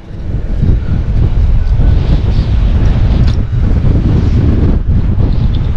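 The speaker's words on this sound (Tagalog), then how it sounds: "Yung hangin lang po." Strong storm wind buffets the microphone outdoors on the water during a typhoon, a loud, continuous roar with low rumbling gusts and no talking.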